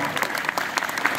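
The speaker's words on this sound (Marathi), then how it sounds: "एकदा जोरदार टाळ्या मृदंगाचार्यासाठी" Audience applause for a mridang player at a kirtan gathering in Depul, a dense, steady burst of many hands clapping that fills the whole brief moment at even loudness.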